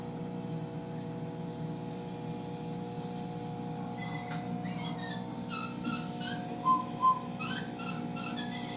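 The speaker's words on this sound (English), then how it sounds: "that toy over there, that's what's making that melody noise" A faint, tinkly electronic toy melody of short high notes plays over a constant low hum and drone of a room.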